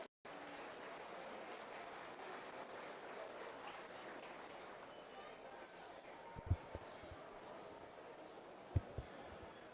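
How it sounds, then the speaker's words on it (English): Applause for youth exhibitors in a beef cattle showmanship ring, a steady crowd wash of clapping filling the arena at moderate distance, with a few sharper thumps near the end. "Give those exhibitors a round of applause."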